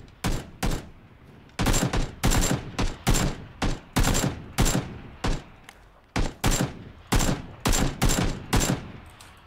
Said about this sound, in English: As soon as they get in, we're going to fire.